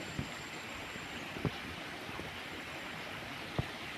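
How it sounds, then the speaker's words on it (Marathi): A forest stream near a temple babbles and gurgles steadily in the background, soft and continuous, with a few brief splashes or knocks standing out over the flow. "पाणी वाहते खळखळ खळखळ भारी वाटते"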